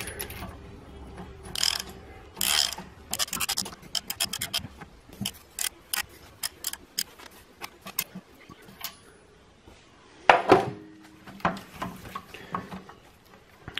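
A ratchet tightens a 27 mm oil line fitting on a Toyota oil system with AN lines, giving bursts of rapid clicking close up, with pauses between strokes and a louder clatter near the end.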